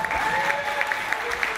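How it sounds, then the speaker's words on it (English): Brief burst of applause from the audience at a Miss Polonia USA pageant, steady dense clapping with a few sharper claps standing out, moderately close, no talking. "Let's have a big round of applause for our judges tonight"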